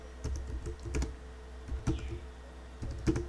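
Rapid typing on a computer keyboard, close and clear, with bursts of keystrokes separated by short pauses and no voices.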